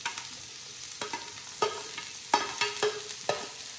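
Chopped cabbage, capsicum and onion stir-fry in a pan for vegetable hakka noodles, with a soft sizzle broken by about seven sharp spatula scrapes at an uneven pace.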